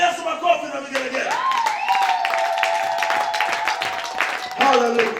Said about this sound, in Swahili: Mpe Yesu makofi na vigelegele.